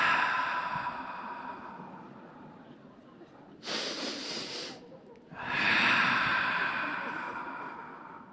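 A person demonstrates a forceful breathing pattern, with two loud, harsh breathy bursts: a sharp rush of air around the middle, then a longer, louder exhale after a brief pause, over a quieter breathy background.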